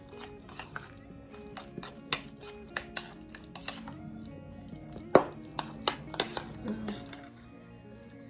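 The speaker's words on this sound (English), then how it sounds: "Make sure your meat and egg is well mixed." Minced meat and egg being mixed in a bowl by hand with a utensil, giving scattered clinks and scrapes against the bowl at an uneven pace. The sounds are close and fairly quiet, with no voices.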